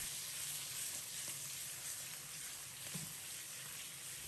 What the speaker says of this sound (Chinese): 煎好一面，翻过来煎另一面，把鱼身两侧煎至2面金黄。